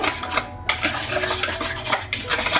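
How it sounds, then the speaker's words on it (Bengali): Batter for homemade flour biscuits being whisked by hand in a bowl, with quick metallic scraping and clinking strokes, loud and close, briefly pausing then resuming. "ভালো করে ফেটিয়ে নেব।"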